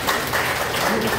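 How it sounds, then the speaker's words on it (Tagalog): A brief burst of audience clapping at a barangay seminar on responsible parenting, short and fairly close. "Wala ba akong palakpak?"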